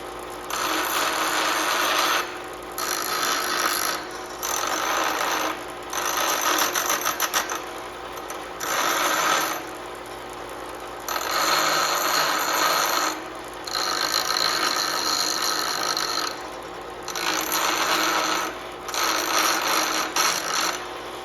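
A power tool grinds front brake parts from a 2018 Chrysler Pacifica in repeated bursts of a couple of seconds each, separated by short pauses, fairly close, with no speech.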